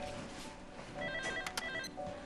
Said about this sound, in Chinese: 电话电话电话。